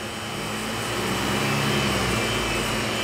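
Engine of a TransCooler 1340 N refrigerated vehicle running with its cooling unit, a steady loud broadband roar that swells slightly as the throttle is raised, with no voices.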